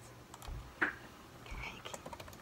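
Someone types on a computer keyboard to search for a song, producing soft, irregular key clicks with a few louder taps, while faint voices murmur in the background.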